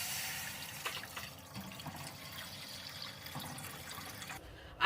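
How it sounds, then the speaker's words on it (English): Water runs into a cooking pot in a kitchen, a moderate, continuous trickle and splash that shifts slightly in pitch as the pot fills, ending with a short thump. "put some water"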